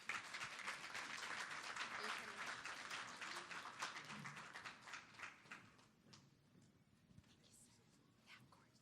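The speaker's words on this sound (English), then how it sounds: "let's give Dr. Robbins and David Cram another round of applause" Audience applause after a talk at a morning business event, a dense steady clapping that fades toward the end into scattered claps and quiet murmuring.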